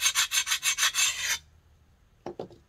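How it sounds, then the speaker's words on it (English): A wet sponge rubbed briskly over a rough spot on a ceramic bowl before underglazing: seven quick rhythmic rasping strokes, close and fairly loud, then a pause and two shorter scrubbing touches. "Wipe it off with a wet sponge."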